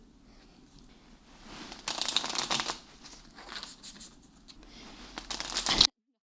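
Animal spirit oracle cards shuffled by hand: crisp riffling, flicking bursts in several rounds, close and fairly loud, with quieter handling between them and no talk.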